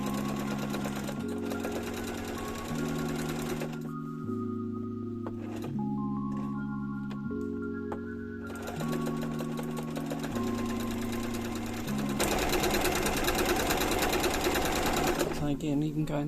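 A sewing machine stitches curtain tape in rhythmic bursts, its close, steady mechanical hum starting and stopping in short runs separated by brief pauses.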